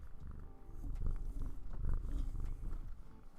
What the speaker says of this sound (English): Cat ASMR. Can you guys hear it?